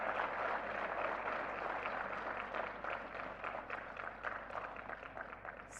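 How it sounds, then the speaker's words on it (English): An audience at the Solar Decathlon India 2023 finals gives a sustained round of applause, a dense wash of many hands clapping steadily at moderate distance for several seconds and fading slightly toward the end. "Can we give all of them a very big round of applause?"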